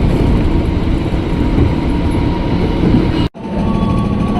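KRL electric commuter train departing Bekasi station on track 5, heard from inside as a loud, steady rumble and roar of motors and wheels, with a brief sharp dropout near the end.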